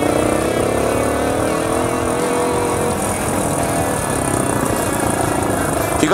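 A Yamaha Tricker motorcycle runs steadily along a narrow, concrete-paved forest road with steep hairpin bends, its engine drone loud and continuous with wind noise throughout.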